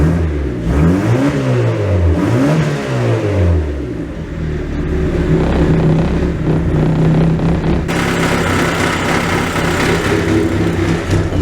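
An LS V8 engine swapped into a Nissan 350Z runs close and loud, opening with rhythmic revving surges, then settling into a rough, steady idle with some rattle.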